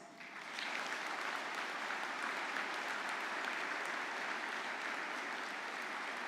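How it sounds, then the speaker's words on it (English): An audience applauds graduates at a fall convocation ceremony. After a brief quieter start, the clapping swells into dense, steady, sustained applause that fills the hall, with no talking. "And let's give them a heartfelt applause."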